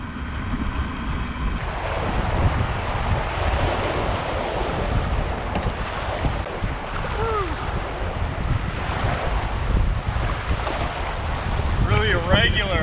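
A river in flood roars with huge, irregular curling standing waves, a loud continuous rush of churning water heard close up with wind buffeting the microphone throughout.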